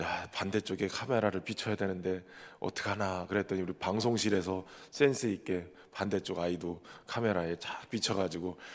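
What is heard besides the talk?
No distinct noise like a dog, phone or traffic.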